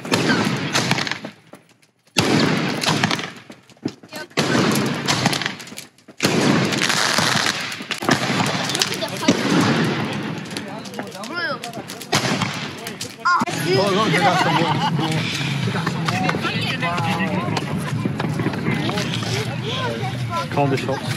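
A fireworks display set off by local boys, with sharp cracking bursts and crackle at moderate distance, gaps between volleys, and people talking and calling out throughout.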